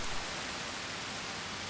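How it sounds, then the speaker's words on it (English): Heavy rain falling on a wetland in June, a dense, even hiss of downpour with no gaps and no voices. "Heavy rain brings the temperature down."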